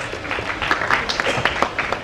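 Audience applause at Anupam Kher's book launch in Surat, Gujarat: a dense, steady wash of clapping from a crowd that runs the whole time, fairly loud and close, with some voices mixed in.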